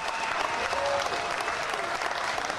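A crowd at a cage fight event applauds continuously, a steady wash of clapping at moderate level with faint background voices mixed in.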